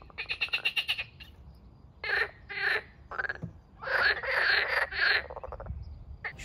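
Toads croaking in bursts near a parked camper van, a quick rattling run at the start, then several louder throaty calls spaced through the rest, fairly close against a quiet background.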